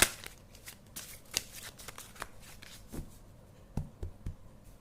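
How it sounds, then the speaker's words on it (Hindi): Tarot cards being shuffled by hand, a close, quiet run of crisp riffling snaps and soft slides in an uneven rhythm, with no talk over it. "कार्ड्स तो बहुत सारे निकल रहे हैं, बारी बारी से ही निकल रहे हैं"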